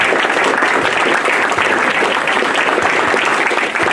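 Audience applause at a fan convention, dense and steady clapping from a large crowd, loud and sustained with no break across the whole stretch.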